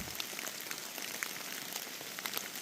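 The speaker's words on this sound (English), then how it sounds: "This rain is cold." Cold rain falling steadily on a mountain trail, a dense hiss of drops with scattered sharper patters close by, moderate and continuous with no talking.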